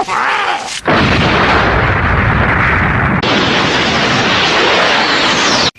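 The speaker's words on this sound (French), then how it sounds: "Ah, l'explosion!" A loud, roaring blast of noise erupts after a short lead-in and rumbles on, broad and sustained, before ending abruptly.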